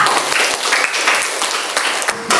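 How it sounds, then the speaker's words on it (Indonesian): Classroom applause for a pupil named Reza during a lesson on plastic waste, children clapping in a loud, continuous crowd of hands at close range with a few sharper individual claps. "kasih tepuk tangan untuk Reza"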